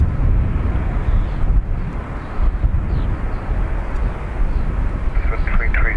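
A jet airliner departing Dublin Airport, its loud low engine roar rumbling steadily and filling the whole stretch, with wind buffeting the microphone and radio chatter faintly underneath.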